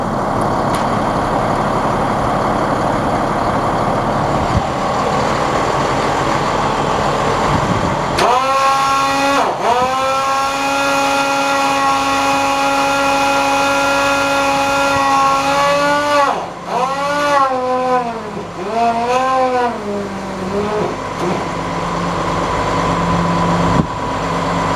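Fire engine 215 runs its pump during drafting, with a loud continuous engine roar that steps up sharply into a higher rev, then wavers through several rising and falling revs before settling.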